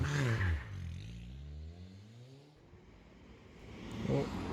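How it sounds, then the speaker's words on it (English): A 250 bhp diesel BMW 530d arriving, its engine note falling away after an opening rev and a low hum rising again as it approaches, with speech at the start and end. "There it is, 530D ride for today, 250 brake horsepower"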